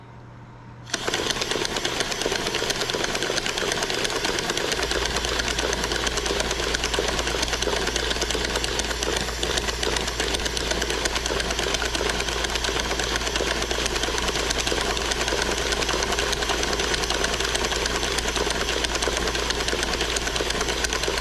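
A rare Temco Striegl self-starting engine runs on compressed air. After a short quiet start it settles into a loud, continuous, rapid mechanical clatter with a steady low hum underneath.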